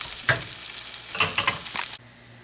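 Chopped tomatoes fry on medium-low heat in a pan until nearly dry, giving a soft sizzle with a few brief stirring scrapes before the sound drops away.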